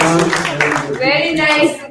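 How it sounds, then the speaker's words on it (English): Clapping from an audience for little kids at a Govardhan Pooja gathering, with hand claps mixed under a speaking voice and some sung or chanted tones. "big round of applause to little kids"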